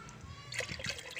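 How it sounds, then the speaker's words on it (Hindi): Water from two glasses poured into a cooking pot of goat trotters (mutton paya) in a village-style kitchen, a short close splashing trickle. "तो इसमें दो ग्लास पानी और शामिल कर देते हैं"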